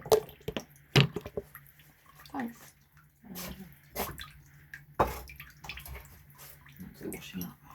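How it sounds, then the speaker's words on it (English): Dishes are washed up under running water, with intermittent splashing, dripping and clinking bursts separated by short pauses, close and moderately loud. "washing up."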